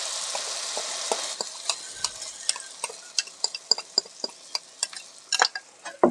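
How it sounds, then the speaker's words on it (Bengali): Egg and potato batter hits hot oil in a pan with a loud initial sizzle that fades, followed by a rapid run of sharp spatter crackles and pops that grows denser toward the end. "দেখো আমার তেল গরম হয়ে এসছে আমি এটা ঢেলে দিচ্ছি"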